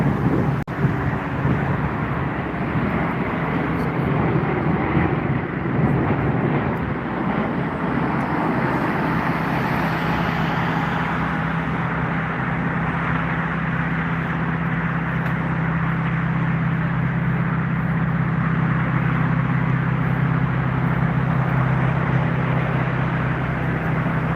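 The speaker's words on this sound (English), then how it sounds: "So, Air Dolomiti, flight number EN 8761 from Katowice to Frankfurt, which has departed 1 hour and 9 minutes ago, arriving to Frankfurt. It's an Embraer E190 aircraft." An Embraer E190 jet on approach to Frankfurt Airport makes a steady, loud engine roar with a low hum and wind noise, continuous and unbroken for the whole stretch with no voices.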